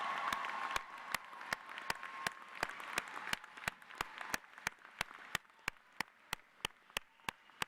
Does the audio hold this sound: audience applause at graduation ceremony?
yes